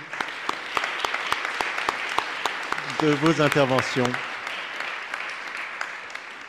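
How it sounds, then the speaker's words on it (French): Scattered audience clapping after a talk on metropolises and the environmental transition, sharp separate claps at a moderate level, with someone speaking briefly over them midway. "Je propose de vous applaudir"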